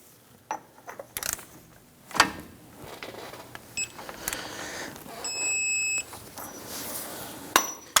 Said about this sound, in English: we're going to put a pry bar right between here, and that's going to work as a stop while we go ahead and torque down the axle nut